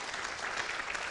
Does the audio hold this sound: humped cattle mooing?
no